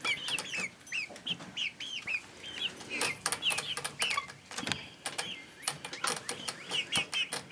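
Backyard chickens clucking and calling in a cluster of short, repeated bursts at moderate distance, with scattered clicks and scratching noises between the calls and no talk.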